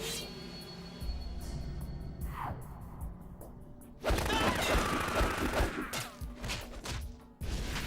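Gunfire rings out in the video game Metal Gear Solid 2 on PS3, with sparse shots early on and then dense, rapid bursts of fusillade from midway that carry through to the end.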